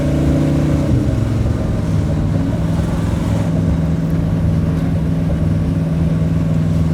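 A twin-turbo 1967 Chevy Nova restomod engine roars steadily for the whole stretch, a loud, sustained mid-range drone with rising revs and throaty rumble, pops blending into the continuous engine noise.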